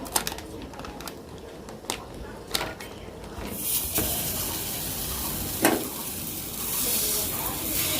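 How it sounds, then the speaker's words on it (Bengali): Paratha flatbread frying in a pan in a home kitchen, a steady oily sizzle with scattered clicks and scrapes of a utensil. The hiss swells louder partway through and holds at a soft, continuous level. "সকালবেলা কিন্তু পরোটাটা ভাজবে"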